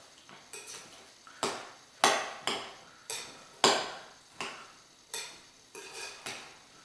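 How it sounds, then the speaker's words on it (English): A spoon clatters and scrapes around a bowl while orzo and vegetables for stuffed tomatoes are mixed, about a dozen sharp knocks in an uneven rhythm, close and clear with no talk. "So we have this all stirred in."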